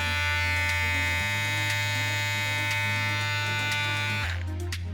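A Wahl 5 Star electric shaver hums with a loud, steady motor buzz close by, its pitch shifting slightly partway through.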